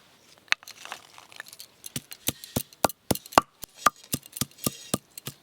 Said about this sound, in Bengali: ডিম রান্নার জন্য প্রথমে আদা আর গাছ থেকে তোলা কাঁচা লঙ্কা একসঙ্গে বেটে নেব